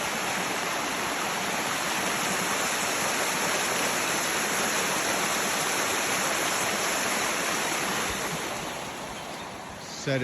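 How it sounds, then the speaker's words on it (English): A waterfall roars steadily up close, a dense continuous rush of falling water that dips slightly in level near the end. "waterfall to get a waterfall sounds"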